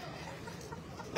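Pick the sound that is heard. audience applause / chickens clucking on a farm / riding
chickens clucking on a farm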